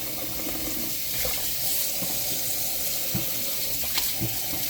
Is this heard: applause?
no